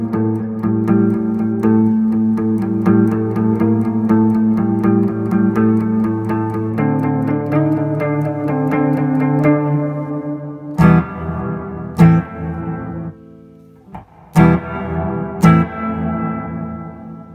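An electric guitar played on the neck pickup through an AS-1R effects pedal rings out sustained chords washed in reverb and echo, then sharp strummed stabs with decaying tails near the end.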